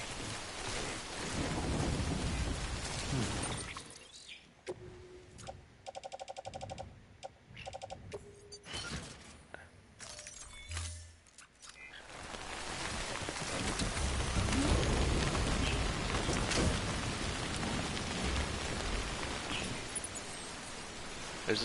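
Timefall rain and thunder in the video game Death Stranding: heavy rain hiss with long rolling thunder that booms and swells, a stretch of broken, cut-out sound in the middle, then a steady downpour again.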